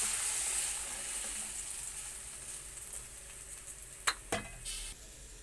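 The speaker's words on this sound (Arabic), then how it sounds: "وهنا حمرت البصله وهنزل عليها بالطماطم" Tomatoes added to a pan of frying onion while cooking stuffed cabbage, giving a steady sizzle with a few sharp stirring clatters near the end.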